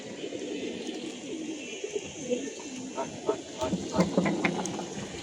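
Pigeons in a loft coo softly in low, rolling calls, several birds overlapping at moderate distance, growing a little busier toward the end.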